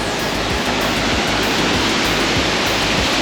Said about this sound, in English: So beautiful how the water swirls around down there, comes down the waterfall and then comes around.